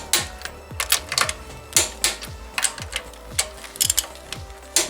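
Torque wrench ratcheting with a series of sharp mechanical clicks in irregular bursts, loud and close, while tightening a rear strut on a Hyundai Elantra.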